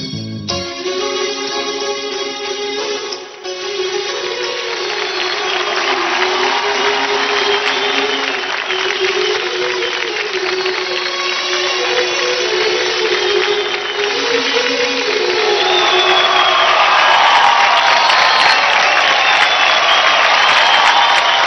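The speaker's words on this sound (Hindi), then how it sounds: "जोरदार तालियां हो जाए" Studio audience applauding and cheering after a dance performance on a televised dance competition, starting right after music ends and building into continuous loud clapping and cheers that swell toward the end.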